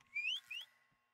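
A person whistles two short rising notes while playing a Roblox horror game, the clear tone sliding upward each time, close and alone over a quiet background.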